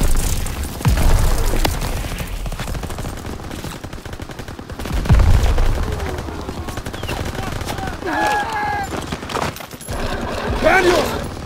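Battlefield gunfire in Call of Duty WWII, repeated rifle and machine-gun bursts with booming impacts, shouted voices over the fighting, close and loud.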